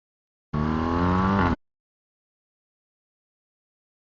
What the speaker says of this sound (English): Hope that sound is coming through that exhaust note, but the bike sounds so good.